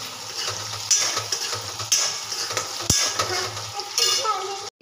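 Sabudana khichdi frying in a pan with steady stirring, a continuous sizzle broken by a few sharp scrapes and clinks of a spoon against the pan, close and moderately loud.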